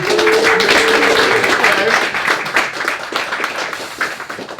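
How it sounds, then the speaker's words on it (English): Studio audience applause for a game designer joining the host on the sofa at a racing game launch show, dense clapping loudest at first and then thinning out, with a voice calling out briefly over it early on. "Everybody, big round of applause for Darren."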